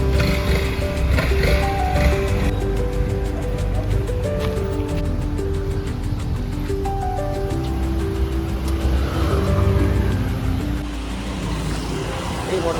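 Rented motorcycle ridden along a road in Krabi, Thailand, its engine droning steadily close by with shifting tones as it accelerates and cruises, with wind noise over the top.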